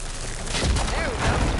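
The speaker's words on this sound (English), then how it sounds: "An explosion." An explosion in the video game Horizon Forbidden West, a broad rumbling burst that swells and rolls on through the clip with a deep low boom underneath.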